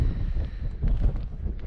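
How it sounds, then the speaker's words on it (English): Strong gusty wind outdoors at around 15 to 20 mph with gusts to 30, buffeting the microphone in low, uneven surges with faint rustling, no voices present. "The wind is probably about between 15 and 20 miles an hour with a steady breeze, gusting up to 30 miles an hour."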